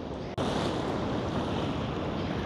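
Broadband wash of surf rolling in at a fishing harbour in Kanyakumari, steady and loud with wind buffeting the microphone, a brief dropout near the start, no voices.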